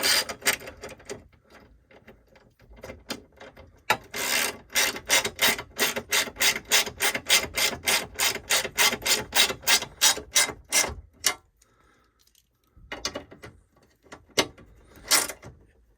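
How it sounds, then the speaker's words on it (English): A ratchet wrench rapidly clicks as nuts are tightened on a TV mount inside a 2021 Winnebago Travato RAM Promaster camper van, with long runs of close, sharp, evenly spaced clicks, a pause, then a few shorter bursts. "we're just tightening these nuts"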